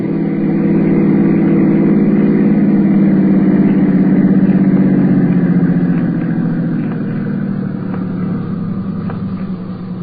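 A car engine hums steadily as it drives along, a dense low rumble holding at a constant level with faint shifts in pitch and no voices.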